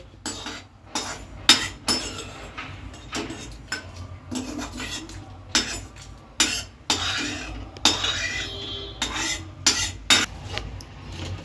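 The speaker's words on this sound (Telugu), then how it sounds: "ఎండుమిర్చి, ఎల్లుల్లిపాయలు, మన జీలకర్ర వేయించుకున్నామండి." Roasted dried red chillies, garlic and cumin scraped and lifted out of a hot pan for a mango coconut chutney, a series of sharp metallic spoon clinks and scrapes against the pan, close, with no talk.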